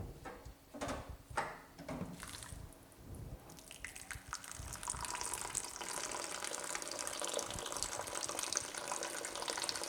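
Water runs from a kitchen tap in a steady, full gush that builds after a few seconds of splashing, close and continuous with no talk.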